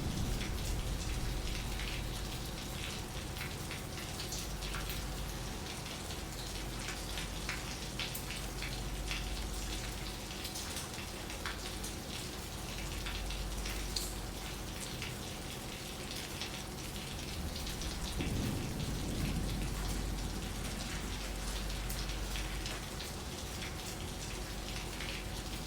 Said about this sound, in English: The rain is making it difficult to hear.